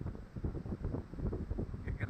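Wind gusts through the rain in soft, uneven rumbling bursts, faint and low.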